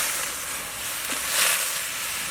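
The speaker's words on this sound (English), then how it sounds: "The water is boiling." A pot of water boiling for pig tail soup in a countryside kitchen gives off a steady, soft rushing hiss with faint bubbling that swells slightly midway, heard alone.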